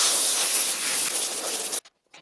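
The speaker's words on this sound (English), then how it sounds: "A little bit of compressed air to get all that dust out." Compressed air blasts in a loud, steady hiss to blow dust out of a 100-year-old Ford Model A/Model T adjustable wrench, then cuts off abruptly, followed by a couple of brief faint puffs.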